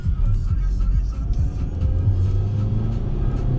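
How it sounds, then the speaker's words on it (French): A car engine revved up briefly while the car moves, a close, loud low rumble that rises and holds steady over a few seconds. "je vais accélérer un petit coup, t'aimes le bruit de la voiture"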